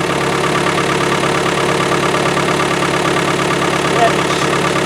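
An Isuzu 4BD1T turbo diesel engine idles after a cold start at -4°C, a loud, steady, close clattering rumble that holds constant throughout.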